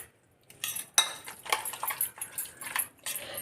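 Small fish pieces are mixed with masala and curry leaves in a bowl for fish 65. Several short, close clinking and scraping strokes come in an uneven rhythm against the bowl, with no voice.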